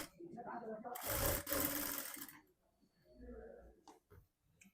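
Sewing machine stitching a katori-cut blouse, a short burst of rapid mechanical whirring at low volume amid quiet handling noises.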